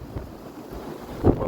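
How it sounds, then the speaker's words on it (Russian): Gusty wind buffets the microphone on a ski slope at Bannoye resort while climbing on a ski tour, a low steady rush with a stronger blast near the end. "Ветрище сегодня, погода, конечно, капец, но вот ничего, в лесу более-менее"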